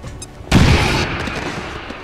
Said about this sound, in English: Can I just throw a grenade down there?